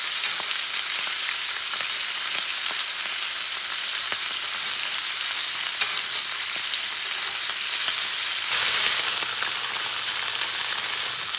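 Top sirloin steak sizzles in melted butter in a pan on a stovetop, a loud continuous close frying hiss with faint pops and occasional utensil clicks, no talking.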